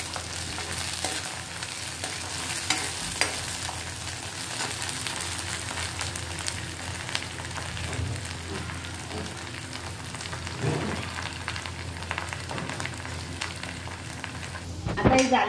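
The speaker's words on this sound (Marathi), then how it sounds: "या हिरव्या मिरच्या टाकून घेऊ" Green chillies frying in a pan while being stirred, a steady, loud sizzle with scraping stir strokes throughout, no voices.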